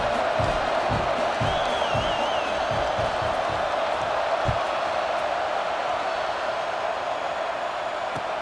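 A stadium crowd in the video game College Football 26 keeps up a continuous, fairly subdued roar with scattered shouts and a few louder thumps, heard without any clear speech.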